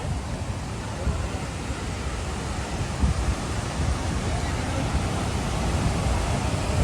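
A monsoon waterfall at Dhangar pours with strong water pressure, giving a loud, steady broadband roar that holds constant throughout without a break.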